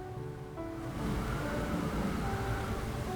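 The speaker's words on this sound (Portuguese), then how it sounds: "O vento tá batendo tudo aqui, porta, janela." Wind gusts roar in a broad, steady rush, swelling after the first second, with faint rattling from a door and window underneath and no voices.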